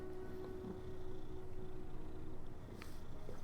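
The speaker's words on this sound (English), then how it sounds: "She's just curled up and purring." A cat curled up purring, a soft continuous rumbling purr close by, low in level, with a faint tonal background hum and a brief small noise near the end.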